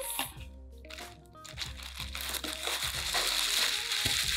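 Pink wrapping paper crinkles and rustles as a bottle of Baccarat Rouge 540 Extrait perfume is unboxed, with close, irregular crackling bursts over a steady background hum and soft music.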